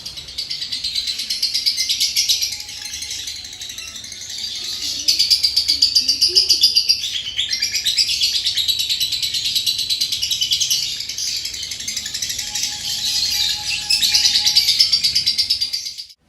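A male lovebird being trained for singing chirps and trills continuously at close range, a bright, rapid, unbroken stream of high tweets that holds steady throughout.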